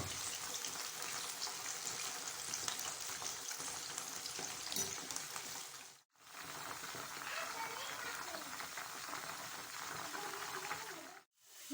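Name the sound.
onions and aloe vera frying in oil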